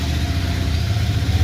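A car engine idles close by in a steady, continuous low rumble with no talking.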